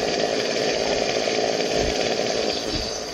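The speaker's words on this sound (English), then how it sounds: "So we got a chainsaw. This chainsaw is better." A chainsaw in 7 Days to Die roars steadily throughout, a dense, buzzing engine whine at constant loud volume with no pauses.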